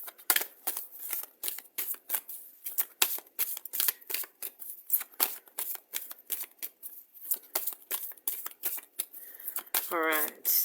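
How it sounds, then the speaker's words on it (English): Oracle cards shuffled and pulled in a run of crisp, rapid riffling flicks and slides, close and fairly loud, with a short pause near the end and no talking. "I'm just going to pull one of these cards to start with."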